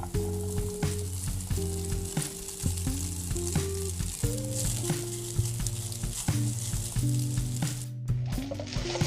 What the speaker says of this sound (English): in goes our Spätzle dumplings. We'll toss those around and put a nice little sear on them